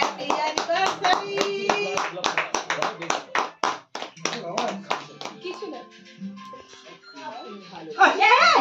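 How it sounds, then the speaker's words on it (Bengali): A small group at a home anniversary celebration claps hands in quick, uneven bursts, close by. Voices, including a child's, talk and call out over and between the claps. "হাততালি দাও, হাততালি দাও।"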